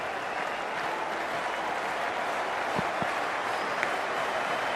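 Broad, steady crowd noise at an India versus South Africa one-day international cricket match, a continuous wash of cheering and applause from a large stadium audience.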